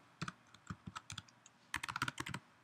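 Typing on a computer keyboard: quick, close, fairly soft key clicks come in two uneven bursts with a short pause between them, and no voices.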